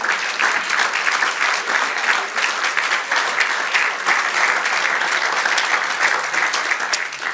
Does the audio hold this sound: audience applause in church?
yes